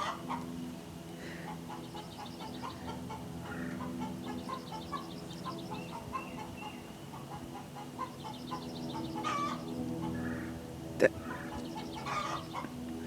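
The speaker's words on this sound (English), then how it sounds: "I'm still amazed by the chickens." Several chickens cluck softly and repeatedly in the background, with brief louder squawks, against a low outdoor murmur.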